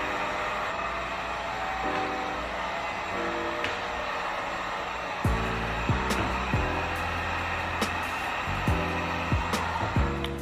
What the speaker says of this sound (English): just get yourself a heat gun and just try to remove the wrinkles